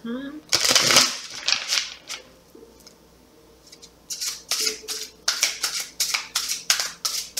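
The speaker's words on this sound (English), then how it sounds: "that was the smoothest shuffle of" Tarot cards are shuffled up close, a burst of riffling followed by a quick run of crisp, rhythmic flicks and snaps.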